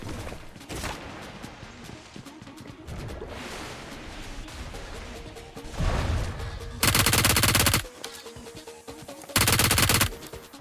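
Rapid bursts of automatic gunfire, including a P90, crackle amid BGMI (PUBG Mobile) game sound effects, with two loud sustained volleys toward the end.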